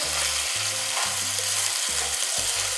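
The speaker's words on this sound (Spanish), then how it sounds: "Sellamos bien los cubitos de pollo" Cubes of chicken breast searing in a hot pan for Peruvian arroz chaufa, a dense steady sizzle with low steady hum tones beneath, close and loud, without speech.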